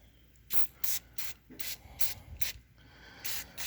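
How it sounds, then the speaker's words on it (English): Several short hissing bursts from a spray bottle of cleaner, squirted in a quick irregular series inside a 1978 GMC truck, close up over faint background noise. "I'm going to spray all this down in here too,"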